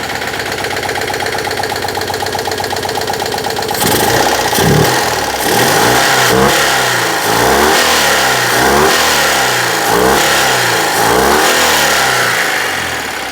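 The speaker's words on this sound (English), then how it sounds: "So at the moment I'm just running the engine to get all the fuel out of the fuel hose" A Citroën 2CV engine runs on the last of its fuel, idling steadily and then revving in repeated rising and falling bursts, loud and close, with no talk.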